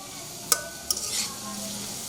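Stir-frying fried rice in a pan, with two sharp scraping clinks of a spatula followed by a steady low sizzle, close and alone without talk.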